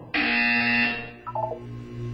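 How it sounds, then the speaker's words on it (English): A harsh electronic buzzer from the video game Portal 2 sounds once for nearly a second, followed by a brief softer tone, with no talking. "When you hear the buzzer, look down at the floor."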